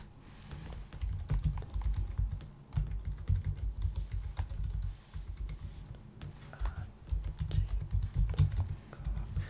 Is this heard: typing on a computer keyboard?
yes